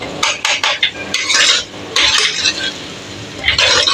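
A spoon stirs and scrapes masala cooking in a pot for a home meal, in repeated bursts of metallic scraping and clinking with a soft sizzle underneath, close and fairly loud, with no talking.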